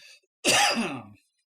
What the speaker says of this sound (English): Hacking cough.